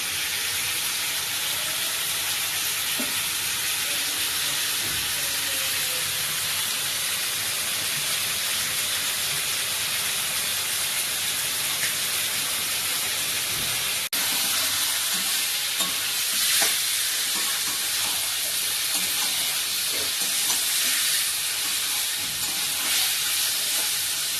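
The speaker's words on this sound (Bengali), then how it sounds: "মশলা কষানো ভালো করে হয়ে গেছে মাংসটা" Mutton sautés with spices and Kashmiri chilli powder, a steady hissing sizzle with frequent spatula scrapes and stirring close by that carries on for a long stretch without speech.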